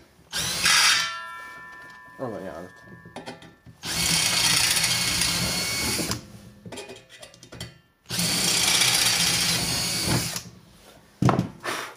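Power drill boring holes in a home workshop, several loud whirring bursts of a few seconds each separated by pauses, with brief speech in between.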